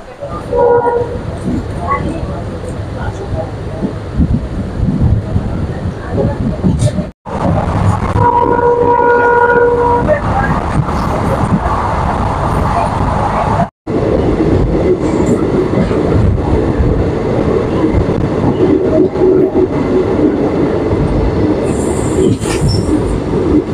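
The Guwahati-Mendipathar passenger train running in Meghalaya, a loud rumble of wheels and carriages with squealing wheels and a sustained horn-like tone, heard close from on board and continuing throughout, with two brief cuts.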